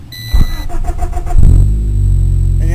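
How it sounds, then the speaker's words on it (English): A 1989 Honda Civic with a freshly replaced water pump and timing belt cold-starts: a short whirring crank and a few electronic beeps, then the engine catches and settles into a loud, steady low idle close by. "let's cold start this pig"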